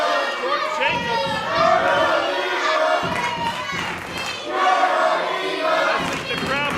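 Crowd at an independent wrestling show reacting after a tag team title match, a loud mix of shouting, cheering and chatter with thumps and a commentator's voice running over it.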